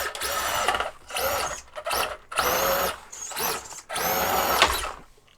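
A cheap brushless 5000 kV motor in an SCX24 RC crawler whines loudly in repeated high-pitched revving bursts during burnouts. There are about five surges, separated by short pauses.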